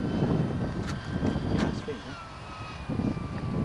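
FoxCub light aircraft making a slow pass overhead, its engine a steady broad drone that dips and then swells again, with voices talking over it throughout.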